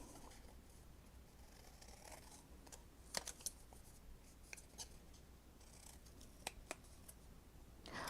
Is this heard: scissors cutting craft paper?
yes